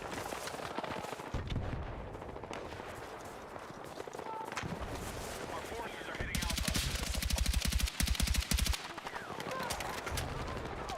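Gunfire in the video game Battlefield 6, rapid automatic bursts and single shots crackling close and in the distance, with heavier sustained volleys near the end.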